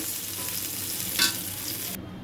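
Eggplant pieces frying in hot oil give a steady, close sizzle, with a brief stir or scrape of the pan partway through; no one speaks.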